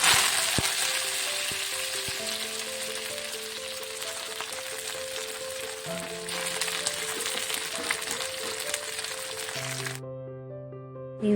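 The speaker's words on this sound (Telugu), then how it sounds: "ఆయిల్ కూడా కొంచెం వేడయ్యాక అప్పుడు ఈ ఆరబెట్టుకున్న కొత్తిమీరని వేసుకోవాలండి." Dried coriander leaves fry in hot oil in a pan, giving a steady, fairly loud sizzle that crackles on throughout, with occasional stirring clicks and a brief pause near the end.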